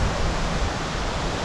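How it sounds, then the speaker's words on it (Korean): Water flows and a waterfall pours beside a hotel in the Netherlands, a loud, continuous broadband rush close by with no breaks. "이 호텔 주변에는 막 물이 흐르고 있고 폭포도 있고"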